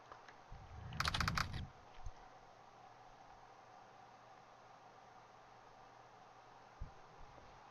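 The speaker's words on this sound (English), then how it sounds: "I have the keyboard sound quieter" A short burst of quick computer-keyboard typing, muffled and fairly quiet, then a lone keystroke, with a couple of faint clicks later against a low steady background hiss.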